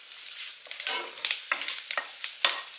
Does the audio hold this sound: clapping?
no